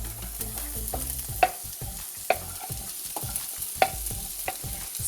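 Vegetables stir-fried in a hot pan for chicken fried rice, with a steady sizzle under repeated scraping and stirring strokes and a few sharp clinks of the utensil against the pan.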